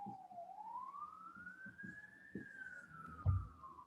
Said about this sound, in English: Some sirens out there.